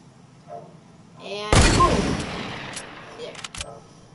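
Gunfire in the Fortnite video game: a loud burst of shots at about the midpoint that tails off into scattered, fainter cracks, with a voice heard briefly near the start.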